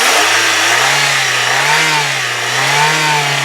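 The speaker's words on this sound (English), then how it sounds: "16-valve, 4-cylinder engine. And this thing really does purr." A 2000 Daewoo Leganza 16-valve four-cylinder engine hums steadily and loudly up close, its pitch rising and falling gently in slow revs with no talking.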